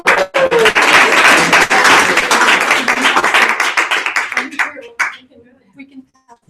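A women's empowerment group audience breaks into a dense round of applause that holds strongly for several seconds, then thins into scattered claps and fades to near silence.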